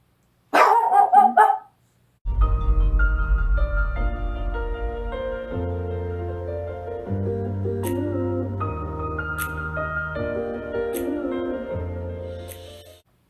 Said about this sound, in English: Okay, Loki, I'm just gonna wait for you to finish barking then.